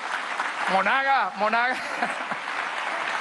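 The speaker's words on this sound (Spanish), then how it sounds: "Un aplauso para los constituyentes de toda Venezuela." Applause from the Venezuelan Constituent Assembly, a steady wash of clapping from a large crowd, with a voice speaking loudly over it near the start.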